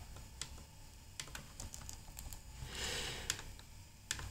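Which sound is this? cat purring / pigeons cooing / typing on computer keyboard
typing on computer keyboard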